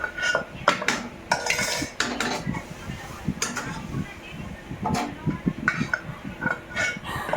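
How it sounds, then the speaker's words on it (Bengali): Dry lentils tipped into a metal cooking pot during simple home cooking, giving a run of clattering, rattling hits and scrapes against the pot, close and fairly loud, with brief kitchen clinks scattered through. "এই দেখো ডালটা দিয়ে দিচ্ছি জল লাগবে"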